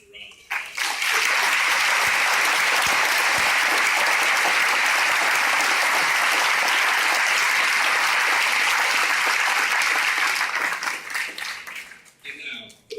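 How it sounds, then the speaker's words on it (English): Loud, sustained crowd applause for graduating soldiers at a military ceremony, swelling quickly, holding at full strength for about ten seconds, then tapering off. "Please give all of these very exceptional soldiers a round of applause."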